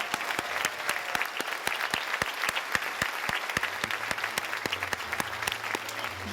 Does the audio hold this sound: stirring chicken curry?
no